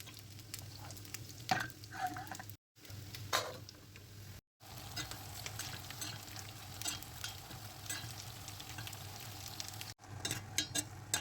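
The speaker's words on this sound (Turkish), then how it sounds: "domateslerimizi kavurmaya başlayalım" Tomatoes sizzle and crackle as they fry in a pot, a steady frying hiss with occasional stirring scrapes and small pops.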